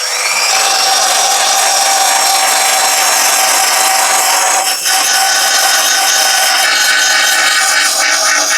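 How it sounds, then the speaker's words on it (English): A power tool strips paint off a metal van seat frame, making a loud, continuous, harsh abrasive grinding close by. "I'm going to take the paint off the new frame because it's got to be done later anyway"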